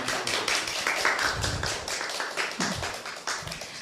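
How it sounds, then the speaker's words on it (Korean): Audience at a startup event in Korea claps for an arriving guest, a dense crowd patter of hand taps filling the room at steady loudness for the whole stretch, with no voices over it. "힘찬 박수 부탁드립니다."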